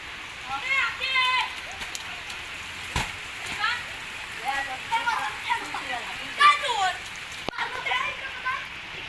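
Rain falls steadily onto a flooded street where water has pooled and children play, a soft continuous patter with occasional splashes beneath frequent children's voices and chatter.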